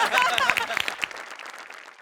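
Studio audience at a Marathi comedy show breaking into applause, a dense burst of clapping that fades out over a couple of seconds.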